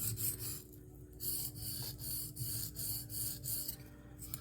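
Small knife blade rubbed across a Norton India stone in freehand sharpening, soft rhythmic rasping strokes about two per second, quiet and close with no talking.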